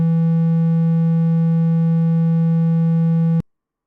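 A Reaktor synth sounds a single steady saw-wave note for an ambient pad, bright and buzzy with no pitch change, held for about three and a half seconds before cutting off sharply into silence.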